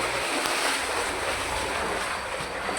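Water rushes through a narrow village drain at night, heard from inside the channel. A loud, steady, roaring wash of water continues without a break and masks everything else.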